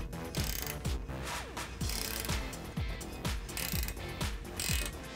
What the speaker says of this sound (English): we're going to take a 9/16 inch ratcheting wrench, or you could use a socket, and we're going to go ahead and tighten this down.